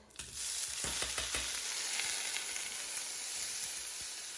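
Rice pilaf sizzles and fries steadily in a pan on a home stove, with a bright constant crackle and a few stirring scrapes near the start.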